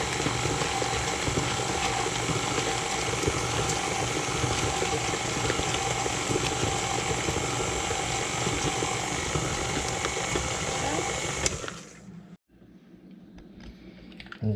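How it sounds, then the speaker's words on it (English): An electric stand mixer on its first speed churns apples into apple fritter batter, a steady loud mechanical whir with clattering that runs alone for about twelve seconds before cutting off into near silence. "I'm just gonna put this on first setting and just let it mix in."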